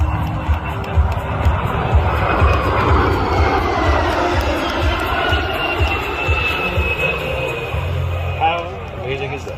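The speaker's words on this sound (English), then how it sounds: "This is the last flight of Sophia, which is a modified shortened version of a Boeing 747 owned by NASA." NASA's SOFIA, a modified shortened Boeing 747SP, flies its last flight in a strong headwind, with a continuous deep engine roar and rushing air throughout. A crowd murmurs and a voice speaks over it.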